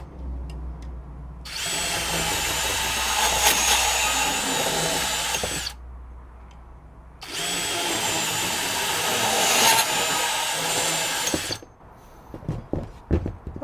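A cordless DeWalt DCS377 compact band saw with an 18 TPI blade cuts 3/4 inch EMT conduit in two loud, close bursts of steady whining motor and blade buzz, each lasting about four seconds, with quiet clicks and handling in between.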